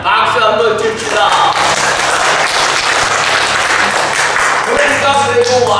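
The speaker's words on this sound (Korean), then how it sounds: "박수 한번 줍시다." A Korean church congregation breaks into loud applause during a Sunday worship service, a dense, sustained wash of clapping lasting several seconds, with a voice speaking just before and after.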